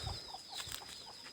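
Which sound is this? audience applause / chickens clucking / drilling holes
chickens clucking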